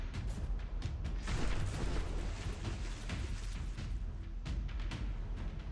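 Battleships trade heavy gunfire in the naval combat game From the Depths, with rolling booms and repeated cannon blasts layered over a constant rumbling roar.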